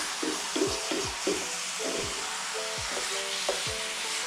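Italian sausage cooking in a pan for stuffed peppers, a constant sizzle under repeated rhythmic scraping and tapping of a spatula, with a faint tonal hum, close and steady without speech.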